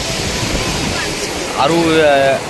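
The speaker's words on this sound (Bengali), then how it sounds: "কেমন করে জলের ঝাপটা মারছে।" Waves splashing against a riverbank as the tide rises, a loud rushing wash of water that swells near the end, heard under a voice speaking close by.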